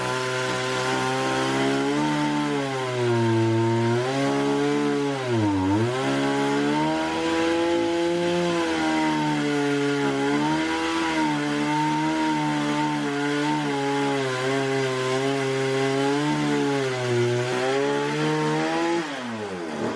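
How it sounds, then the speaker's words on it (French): Chainsaw cutting wood for a terrace, running continuously at high revs with a steady loud whine and pitch dips as the blade bites into the timber, heard without speech. "Si vous entendez un bruit en arrière-plan, c'est Alex qui tronçonne"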